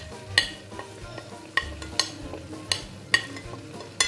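Beef seasoned with salt and crushed red chili is stirred in a frying pan, a spoon scraping and knocking against the metal every second or so over a soft, steady sizzle.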